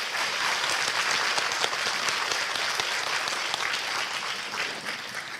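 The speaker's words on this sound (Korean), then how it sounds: "기쁨 수레님과 서로미드님께 다시 한번 큰 박수 보내주세요." Full, continuous applause from an audience at a book celebration, honouring two performers after a quiet musical piece, dense and steady from start to finish.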